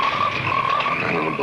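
A dense, loud chorus of frogs croaking steadily with no break, many voices overlapping in a constant wall of sound, from the 1972 film Frogs.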